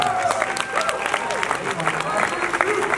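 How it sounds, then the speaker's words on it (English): A crowd at a figure bodybuilding competition claps in sustained applause, loud and close, with some voices mixed in. "That is our applause."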